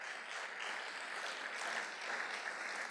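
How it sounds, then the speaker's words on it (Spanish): Broad, continuous applause from a church congregation, even and sustained without pauses. "¿Por qué no le da un aplauso al Señor por eso?"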